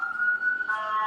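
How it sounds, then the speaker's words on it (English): A brief siren wail, fairly faint and distant, holds a high steady tone before shifting pitch. "there is an ambulance driving down the street"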